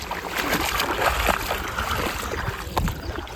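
River water splashes and swirls as people wade knee-deep across a river on a walking pilgrimage, with irregular close sloshing bursts over a constant rushing flow.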